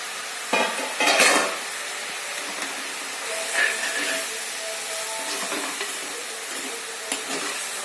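A spoon scrapes and stirs puthari chunda thoran frying in a pan, giving short, separate scraping strokes over a soft, steady sizzle, close by and with no talk.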